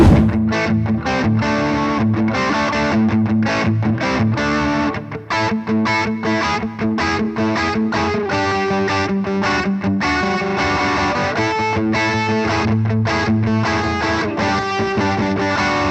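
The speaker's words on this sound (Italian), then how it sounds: "quando suono un accordo e abbasso la leva, ad esempio di un tono, l'accordo scende mantenendo esattamente gli stessi intervalli tra le corde" A Squier electric guitar plays a heavily distorted chord that is lowered with the tremolo bar, so the whole chord bends down together. The strummed chords are loud and continuous, with steady rhythmic attacks and no talk.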